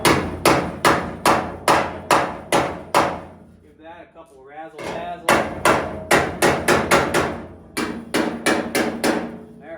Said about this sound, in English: Let me get a little bit of body hammer action here.